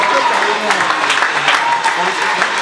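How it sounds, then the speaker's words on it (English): Audience applause at a Tampan welfare foundation event, a steady wash of clapping from a crowd with voices mixed in throughout, fairly loud and continuous. "A round of applause,"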